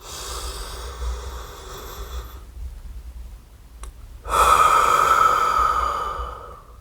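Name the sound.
breathing in and out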